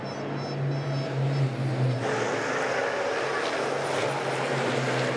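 Race cars roaring through turns 1 and 2 at the Zolder circuit, a steady dense engine wash with one car's tone shifting as it passes, loud and continuous.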